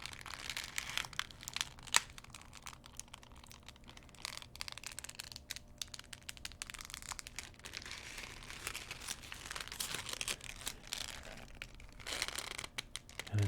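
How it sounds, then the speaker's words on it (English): Paper crinkling and crumpling as it is folded against its crease, a close, soft, continuous rustle with a few sharper crackles throughout. "of sound might happen, when the paper didn't want to fold that way"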